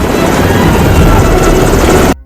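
A loud, steady helicopter roar with rapid rotor chop, close and continuous, cutting off abruptly at the end.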